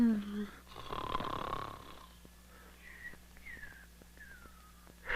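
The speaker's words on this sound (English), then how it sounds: "Either stop snoring or cover your head with pillows." A cartoon character snores loudly: one long, rasping inhale, then a run of short whistling tones on the exhale, set against a low steady hum in an animated children's story.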